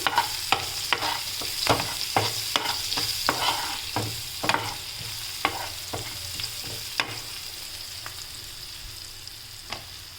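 Spices being stir-fried in a hot pan with salt and chili powder, a steady close sizzle broken by repeated sharp scraping strokes of a spatula, with no talking.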